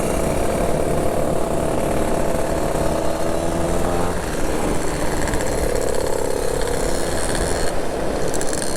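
Around fifty motorcycles idle together at a riders' meetup, making a loud, steady engine drone that fills the whole stretch. The rumble shifts in pitch a little partway through and never lets up.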